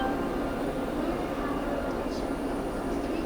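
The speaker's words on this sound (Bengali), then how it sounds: "দেখো ফাইনালি আমাদের স্লিপার বন্দে ভারত ঢুকে পড়লো কামাখ্যা রেলওয়ে স্টেশনের 2 প্ল্যাটফর্মে।" Sleeper Vande Bharat train pulling into platform 2 at Kamakhya railway station, a steady low rumble of rolling stock filling the whole stretch, close and continuous with no voices.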